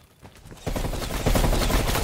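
Gunfire in a shooter video game as snipers trade shots across desert dunes, a quiet start giving way to dense, loud bursts of shooting.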